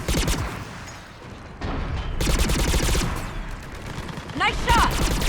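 Rapid gunfire in the video game Mass Effect 3 during a firefight, bursts of sharp shots and booms cutting in and out, with brief synthetic effects near the end and combat voices mixed in.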